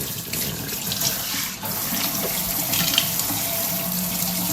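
Water runs steadily from a tap into a sink in a home where the hot water will not heat, a continuous close hiss without pause for the whole stretch.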